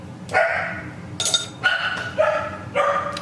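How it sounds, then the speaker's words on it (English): A dog barks indoors several times in short, separate bursts with pauses between them, fairly loud and close. "Do y'all hear my dog?"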